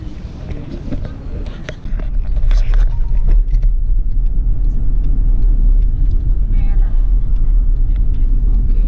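A car's interior in Canberra on the way to a war museum: a low, steady engine and road rumble settles in after a couple of seconds and holds throughout, with faint voices near the start.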